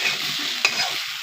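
Gima greens fry and sizzle on a stove in a steady, close crackle, with one sharp stirring scrape partway through and no voices.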